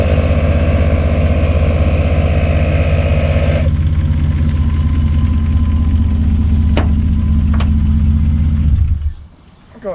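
A tire inflation system runs as a loud, steady mechanical drone with a constant low hum, the pitch shifting partway through, before it cuts off near the end and leaves near silence.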